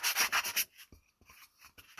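Sandpaper is rubbed back and forth over small wooden pieces in a quick burst of about five rasping strokes, followed by a few softer, scattered scrapes, all close and with no voices.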